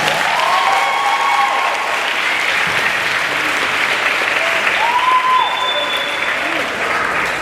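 A church congregation applauds loudly during a sermon, a thick, sustained roar of clapping with a crowd murmur and a raised voice briefly cutting through over it.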